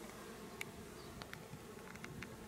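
Honeybees swarm thickly at the entrance of a crowded hive, a faint steady drone with individual bees zipping close past at intervals.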